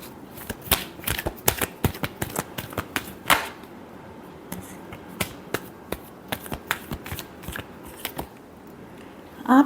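Tarot cards being shuffled by hand, a long run of crisp riffling and slapping bursts, dense at first and then more spaced out, loud and close with no voices.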